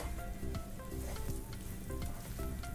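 Semolina (suji) roasts in a pan over a low flame, giving a steady soft sizzle with faint scraping from stirring and no voices.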